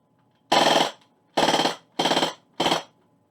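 Colt Commander pistol firing a magazine: four loud, close shots in an uneven rhythm, each followed by a short decaying echo.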